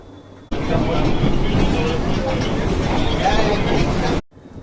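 An air-conditioned local train from Sealdah rumbling steadily along the rails, a dense continuous roar with rattling, loud and close throughout before cutting off near the end.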